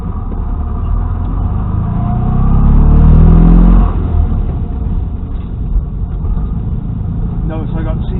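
A 1970 Fiat 500L pulls away in gear: a loud low engine rumble swells and climbs for a few seconds, then settles into a steady drone inside the small car, with someone talking over it.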